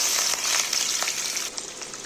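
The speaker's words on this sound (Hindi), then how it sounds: "मैंने ऑयल लिया है यहाँ पे, तो अब मैं इसमें डालूँगी एक चॉप्ड अनियन" Chopped onion frying in hot oil in a pan, a steady bright sizzle with faint crackles, close and continuous with no talking.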